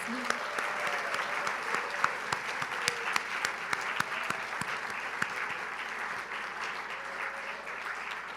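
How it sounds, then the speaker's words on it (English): A crowd claps steadily for several seconds at a scholarship presentation, sustained applause filling a large room, with a few murmured voices underneath. "Let's give them all a round of applause."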